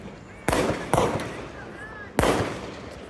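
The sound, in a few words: string of firecrackers going off at birthday celebration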